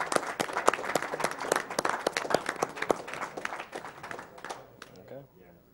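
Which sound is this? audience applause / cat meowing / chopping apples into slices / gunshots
audience applause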